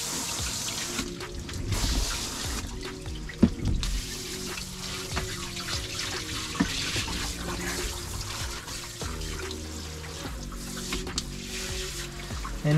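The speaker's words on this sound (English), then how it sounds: "Last but not least, we're gonna hose it down." A garden hose on a shower spray setting washes down the engine bay of a Yamaha jet boat, giving a steady, loud, close hiss and splatter of water throughout with small knocks.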